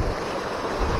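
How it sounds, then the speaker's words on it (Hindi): Small mountain waterfall in the Uttarakhand hills, a steady close rush of falling water that fills the whole short stretch, with no talking. "देखो पानी गिर रहा है"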